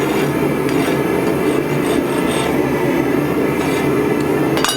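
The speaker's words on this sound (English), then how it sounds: "I'm taking my file and I'm just radiusing off that jaw" A metal file rasps steadily across a steel tong jaw to radius its edge, a loud, close, continuous grinding scrape with no pauses or talk.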